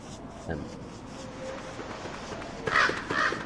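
Crows caw in the Don't Starve video game, harsh calls in a stone biome coming in two bursts near the end, with a faint earlier call and light background ambience.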